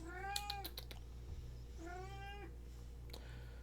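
A cat meows twice, each a drawn-out, nasal call close to the listener, with a short gap between them and a low steady hum underneath.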